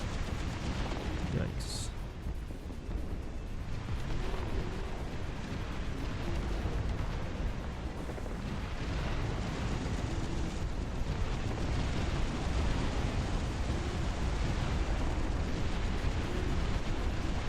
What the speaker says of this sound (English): See him drop some bombs here.